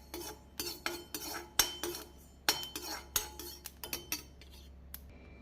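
Sesame seeds being roasted in a pan while making garlic idli podi, with a metal spoon scraping and clinking against the pan in irregular bursts over a low steady hum.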